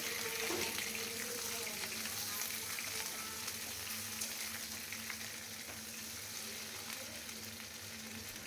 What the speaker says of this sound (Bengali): আর এদিকে পটলটা তো তখন ভেজে নেওয়া হচ্ছে